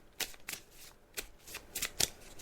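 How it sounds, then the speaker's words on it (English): Tarot cards are riffled and shuffled in quick, uneven bursts of papery flutter, close and fairly quiet, with no voices. "I'm just shuffling the cards now, as you can hear, Alex"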